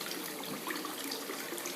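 Water pours steadily into an aquaponics grow bed fitted with a bell siphon, a continuous close splashing hiss that holds even throughout without pause.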